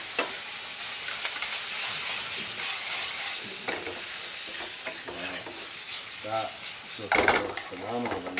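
Mushroom bhajee with base gravy, methi and tomato pieces sizzling and bubbling steadily in a restaurant-style curry pan, with occasional scraping stirs and small metallic clinks, fairly quiet throughout.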